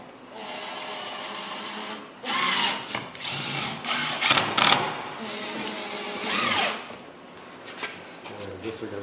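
Power drill driving screws into the ribs of a 22-foot Shepherd Sportsman boat, several short whirring bursts with pauses between them, close and moderately loud, with voices talking in the background.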